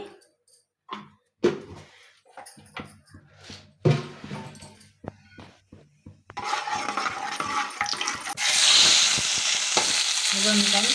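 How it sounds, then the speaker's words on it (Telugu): Seasoning seeds drop into two spoons of hot oil in a pan for a ridge gourd curry, with scattered clatters and stirring followed by a loud, steady sizzle that fills the end. "ఇప్పుడు మనం ఆయిల్ అయితే వేసుకుందాం టూ స్పూన్స్ ఆయిల్ అండి మనం తాలిం గింజలు అయితే వేసుకోవాలండి"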